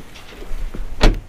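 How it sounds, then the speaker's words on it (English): A car door on a small Volkswagen hot hatchback, either the up! GTI or the Polo GTI, is opened, with a quiet rustle and then a single close, solid clunk near the end. "The door opens quite well, so that's quite good."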